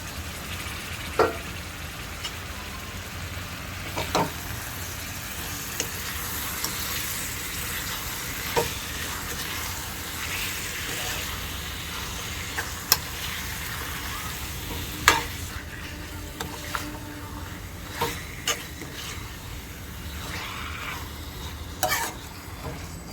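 One kilogram of cleaned chicken sizzles steadily in fried masala for village-style biryani cooked in a rice cooker, with a spoon stirring and scraping the pot in occasional sharp knocks.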